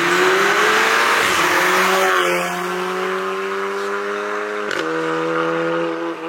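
A VW Golf MK7.5 R spinning its wheels, tyres squealing loudly while the tuned engine revs in a sustained, rising and falling whine, close and alone.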